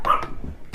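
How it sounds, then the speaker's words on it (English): A dog barks once sharply up close, then gives a lower grumbling yip in a short indoor burst. "So apologies for the mouthy dog."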